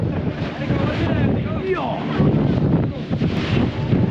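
Sea waves wash and churn steadily around a boat off Malvan on the Konkan coast, with a broad rushing roar and gusty wind noise on the microphone, under some talking.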